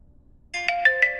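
An incoming call ringtone plays on a smartphone paired with a Huawei Band 10, a clear tonal melody that starts suddenly after near-silence and keeps ringing with bright, pulsing notes.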